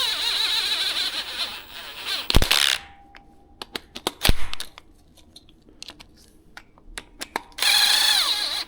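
Ratchet and socket work while installing ARP head studs on a 6.0 LS engine: short bursts of quick clicking and ratcheting, separated by sharp metallic taps and quiet pauses, close to the listener.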